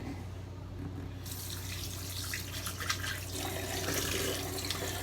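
Running tap water splashes over lathered hands being rinsed at a sink during a wet shave, a steady close rush of water that grows a little fuller partway through, with no talking.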